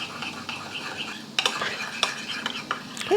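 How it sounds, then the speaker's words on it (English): A spoon stirs a small sauce mixture seasoned with ground white pepper, producing close, quick clinks and scrapes against a bowl, louder in bursts after the first second, with no talk. "we're just gonna stir this together"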